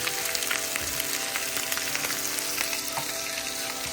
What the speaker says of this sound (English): Grilled beef chunk ribs